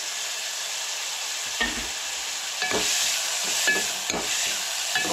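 Tomato tempering crackling in hot oil, a steady sizzle punctuated by several scraping stirs of a spatula against the pan, close and without speech.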